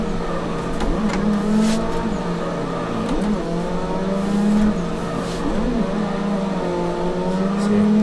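Car engine in the Assetto Corsa racing game, revving hard and holding high pitch during a drift, with surging throttle changes and faint tire squeal, loud and continuous.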